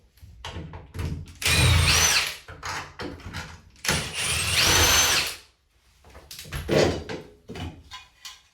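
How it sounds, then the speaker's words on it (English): A power drill whirs in several bursts, spinning up and winding down as it removes screws from a one-piece fiberglass shower and tub, with short pauses and clattering handling noises between runs. "Just switch over to a drill."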